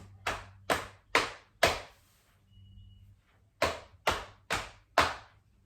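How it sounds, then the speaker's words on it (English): Hands pat against the body in two sets of four sharp, evenly spaced beats separated by a short pause, each pat crisp and close, with no talking. "Well, I can pat."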